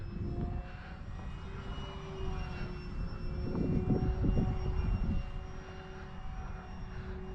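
A light Arrows Trekker RC plane flies outdoors in wind, its motor giving a steady whine that swells slightly midway over rumbling wind buffeting.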